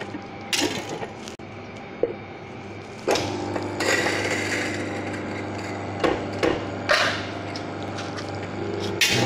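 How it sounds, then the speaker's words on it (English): Coffee grinder grinding frozen coffee beans: a steady, loud mechanical grinding drone runs throughout, with brief surges and rattles from the beans and motor. "So I'm just going to go ahead and grind this."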